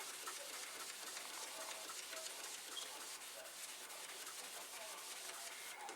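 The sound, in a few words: Magic Eraser sponge rubbing a Commodore 1541 case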